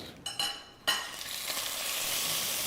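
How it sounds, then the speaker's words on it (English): Chicken pieces laid skin side down into a smoking-hot pan, giving a loud, steady sizzle that swells and continues as the skin fries, with a few brief clatters of placement at the start and no talk. "And when you put it in the pan, it should sizzle, of course."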